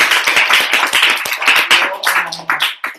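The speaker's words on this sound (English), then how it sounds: "let's give a round of applause for Troy and Holly for getting engaged" Audience claps for a newly engaged couple, a dense burst of many hands lasting about three seconds, loud and close with steady rhythmless patter and a few faint whistles or tones underneath.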